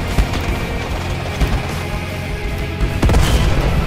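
A tank cannon fires in a Roblox tank battle game: a deep heavy boom near the end over a steady low mechanical rumble, with fainter thuds earlier.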